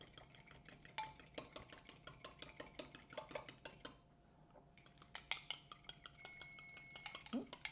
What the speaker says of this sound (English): and then we're going to whisk